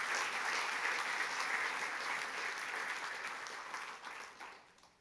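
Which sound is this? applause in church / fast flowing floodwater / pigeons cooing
applause in church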